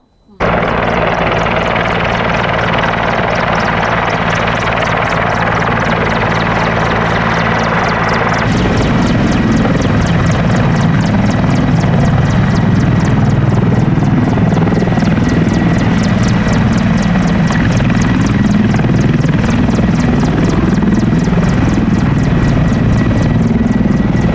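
A Ukrainian Mi-24 or Mi-8 military helicopter in flight gives a loud, steady, close rotor and engine roar that runs the whole time and thickens partway through, with no speech over it.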